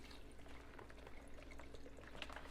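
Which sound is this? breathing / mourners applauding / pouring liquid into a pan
pouring liquid into a pan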